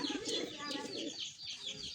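Soft pigeon coos repeat in a low murmur, with faint chirps and light rustling nearby.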